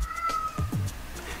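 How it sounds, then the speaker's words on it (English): A cat meows twice in quick succession, fairly close and clear, over a faint background hum. "I don't know if you could hear the cat meowing"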